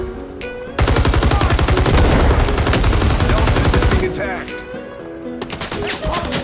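Sustained M60 machine gun fire in Rising Storm 2 Vietnam: a loud, rapid, unbroken burst of about three seconds, with quieter battle sounds and possible voices before and after.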